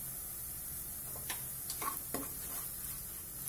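Banana and semolina being stirred together in a frying pan, giving a steady low hiss with a few soft scraping strokes near the middle, close and fairly quiet, with no voices.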